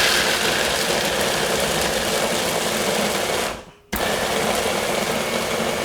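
A food processor whizzes dates and coconut for a raw coconut key lime pie base, giving a loud, steady high whirring drone that cuts out briefly partway through and then starts again.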